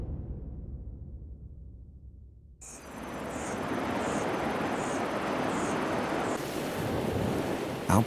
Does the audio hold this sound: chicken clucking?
no